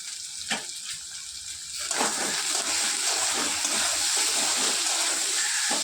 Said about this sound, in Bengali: এবার দিয়ে দেবো সামান্য পরিমাণের জল, সামান্য পরিমাণ।